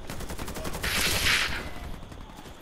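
Gunfire aimed at the player in the shooter Warface, a sustained loud burst of automatic fire in the middle, then a single sharp crack near the end over steady game ambience.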